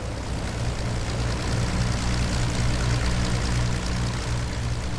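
Steady, loud drone of a P-40 fighter's piston engine and propeller in the A2A Wings of Power 3 flight simulator, a continuous low rumble with wind noise held throughout and no talking.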